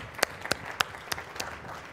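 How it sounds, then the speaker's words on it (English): A small group at a Global School Forum event gives event staff a handful of scattered, distinct hand claps that spread out over about two seconds, with quiet room tone in between. "Let me give them also a round of applause."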